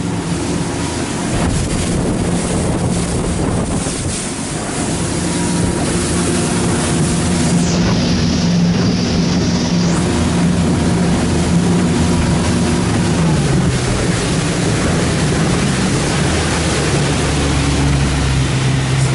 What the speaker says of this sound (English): Nice riding boat. Quiet, runs really good,